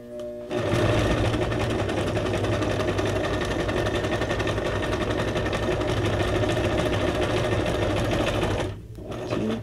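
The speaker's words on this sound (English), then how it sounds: "This is just sewing a zigzag off the edge." A sewing machine runs a zigzag stitch along the edge of paper ephemera for a junk journal. It makes a loud, steady, rapid whirr that lasts several seconds and then cuts off briefly near the end.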